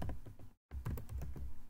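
Rapid computer keyboard typing, close and steady, with dense clicking keystrokes and a brief silent gap partway through; no talking.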